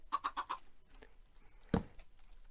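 Chickens in Minecraft, a quick run of four soft clucks followed by a single sharper blocky sound, quiet overall in a game setting.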